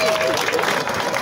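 A crowd at a gathering for patriotic militia members receiving aid from elected MPs breaks into steady applause, dense clapping filling the short moment with faint voices mixed in.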